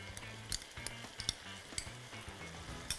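Beef and broccoli sizzle in a pan dressed with oyster sauce, sesame oil and cornstarch, a soft continuous crackle broken by a few sharp scrapes and clinks of the stirring utensil, close and without talk.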